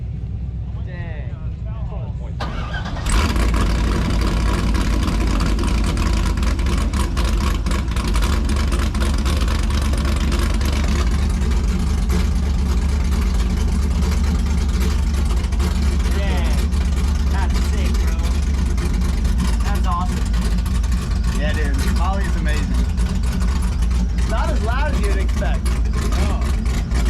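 A Corvette drift car engine starts with a roar and keeps running loudly and steadily, a deep rumbling drone with voices faintly audible beneath it.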